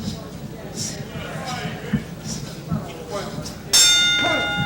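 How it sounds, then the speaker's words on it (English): Boxing bell rings out to end round 1 of a professional bout, a bright sustained clang with ringing overtones arriving near the end over a steady crowd murmur and commentary. "There's the bell ending round 1"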